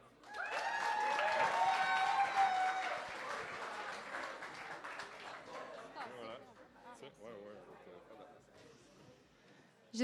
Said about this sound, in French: Merci de l'acclamer.